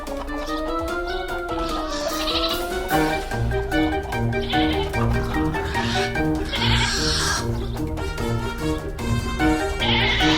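A baby merino lamb bleats over a steady, tonal background, its wavering cries recurring loudly and close through the whole stretch.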